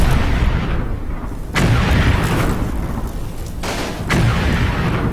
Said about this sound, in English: I have to shoot a few AG rounds into there again